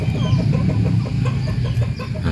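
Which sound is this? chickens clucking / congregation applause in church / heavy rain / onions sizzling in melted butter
chickens clucking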